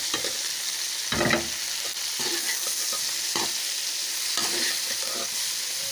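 Spices added to bitter gourd frying in a pan, with a steady loud hiss of oil and several scraping stirs breaking through, heard alone with no talking.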